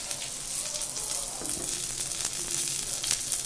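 Curry leaves crackling and sizzling in hot oil, a dense, constant frying hiss close by with small pops, no one talking.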